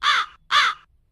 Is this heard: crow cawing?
yes